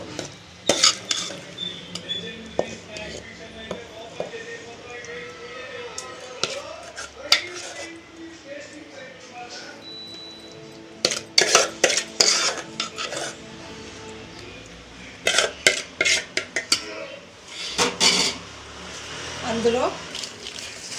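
Cooked gongura leaves and green chillies are scraped and moved into a stone mortar, making close clinks, scrapes and knocks of a utensil against vessel and stone in irregular bursts, with someone speaking.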